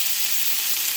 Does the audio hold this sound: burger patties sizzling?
yes